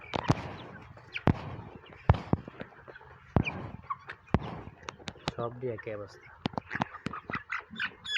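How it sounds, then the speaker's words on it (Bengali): Sick, feverish farm chickens give scattered squawks and clucks, some close and sharp, in a poultry shed. Someone talks over the birds much of the time. "এগুলো হলো অসুস্থ মুরগি"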